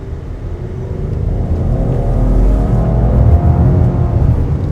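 A 2026 Subaru Outback Touring XT with a 260-horsepower turbo engine accelerates hard, a deep rising engine rumble and whir building steadily from inside the cabin, loud and continuous.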